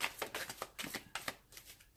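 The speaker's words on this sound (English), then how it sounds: "This is a larger deck, kind of hard to shuffle." Cards riffle and slap together in a quick, uneven run of soft bursts, a large tarot deck being shuffled close by with no voices.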